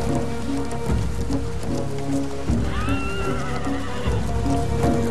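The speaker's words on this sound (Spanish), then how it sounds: "Los caballos proporcionaron otra enorme ventaja a los europeos." A horse neighs once over a steady rain-like patter and scattered hoof clops, the whinny rising and wavering before it trails off, close and fairly loud.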